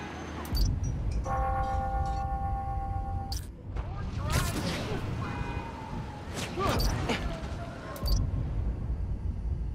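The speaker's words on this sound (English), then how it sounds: "Ringing on the hour. When I hear those bells, I remember the last time I was here." Clock bells ring the hour in the video game Marvel's Spider-Man: Miles Morales, a short run of clear, sustained chimes in the city amid thumps and other game sounds.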